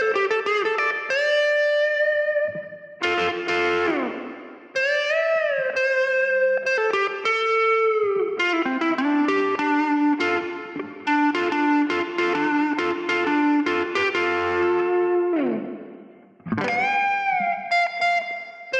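Electric guitar solo tone through a Line 6 Helix with compressor and reverb, playing sustained, bending lead notes in phrases with short gaps, loud and close.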